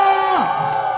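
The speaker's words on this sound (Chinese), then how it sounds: "我唔叫大家大力拍掌啦，大力歡呼唔該" A cinema audience at a thank-you screening of the film 飯戲攻心 cheers and whoops loudly up close, a single rising-and-falling shout standing out over the crowd.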